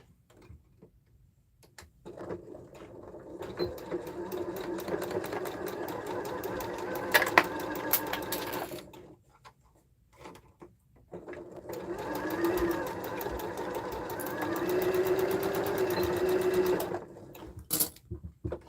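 A home sewing machine stitches fabric for a sling bag in two long bursts of steady, rapid mechanical whirring, separated by a short pause, close and clear with no talking.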